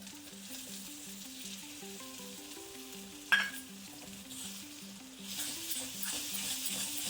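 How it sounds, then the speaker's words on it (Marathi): Ground paste and black masala sauté in a pan for mutton sukka, giving a steady soft sizzle that grows louder toward the end, with a single sharp clink midway and a repeating tonal pattern running underneath. "मसाला परतून झालेला आहे."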